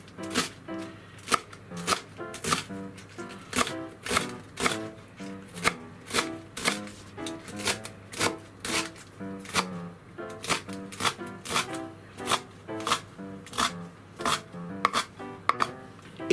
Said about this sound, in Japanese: じゃあニラをみじん切りに、まず半分に切って、はいやっていきます。